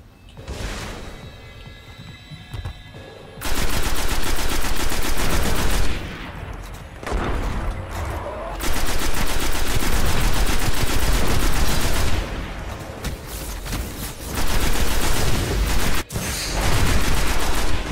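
An allied soldier's gun fires long, loud sustained bursts in the video game Destiny, with dense rapid gunfire running for several seconds at a time, broken by short pauses and a single sharp crack.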